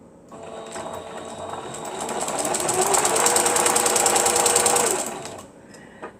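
A sewing machine stitches a small handmade book in a rapid, even mechanical rattle that builds, holds steady for a few seconds and then stops, heard up close.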